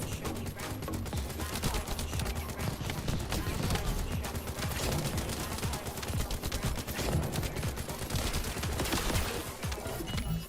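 Gunfire from a weapon in a looter-shooter video game comes as a busy rapid stream of shots mixed with other game effects, steady and dense throughout, with a voice talking over it.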